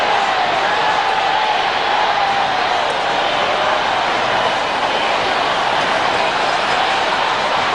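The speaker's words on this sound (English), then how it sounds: "It's a hostile crowd. They're chanting, "We want Campbell."" A hostile cricket crowd, chanting for Campbell at an abandoned match with bottles on the ground, roars as a loud, dense, continuous wash of massed voices with no clear breaks.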